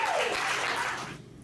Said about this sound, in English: They literally just clapped at Satan bad.